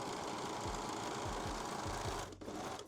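A serger or sewing machine running a zigzag stitch along the edge of a lingerie crotch piece for a high-waist thong, whirring steadily and loudly up close with a rhythmic mechanical thump, briefly dipping near the end.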